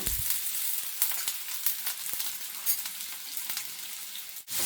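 Thick-cut onions, four of them, frying in hot oil in a pan, giving a steady close sizzle with scattered crackles and a few soft stirring scrapes, no voices.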